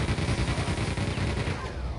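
A chain gun in Quake 2 fires a dense, continuous burst of rapid, rattling shots, loud and steady for the whole stretch with no talking.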